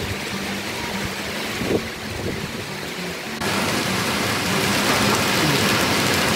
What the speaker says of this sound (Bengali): দেখো শিলাবৃষ্টি হচ্ছে